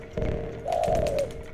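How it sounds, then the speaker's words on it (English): A pigeon's soft, low coo in the video game Jazzpunk, two short rounded calls in close succession, clear and alone. "There's the pigeon."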